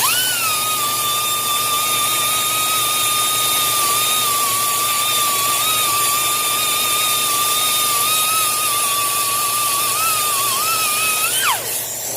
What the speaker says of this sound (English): this is my whizzer wheel. This is how we clean the heads.